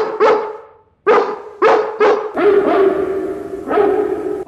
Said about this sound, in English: There's the twilight bark.